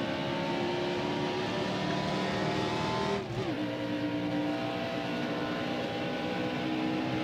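Race car engine from NASCAR Heat Evolution roaring steadily on track, a sustained loud drone with a brief dip in pitch partway through before the engine holds on again.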